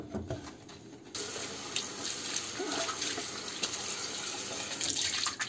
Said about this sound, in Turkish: Şöyle bir de sabunlu suyla güzel yıkıyoruz.